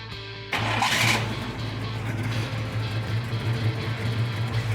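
A 1967 Pontiac Firebird convertible cranks and fires up, its engine catching abruptly and settling into a loud, steady, throbbing idle close by outdoors.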